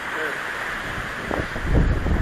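Strong wind buffeting outdoors near mountains, a steady rushing roar that swells louder toward the end, with no one speaking.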